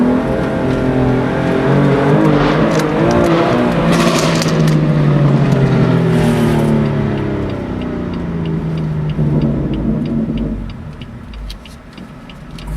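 A 2018 BMW M4 in Sakhir Orange with the Ultimate Package revs its exhaust inside a tunnel, a loud rising and falling roar with echoing reverberation that swells then fades away toward the end, with no talking.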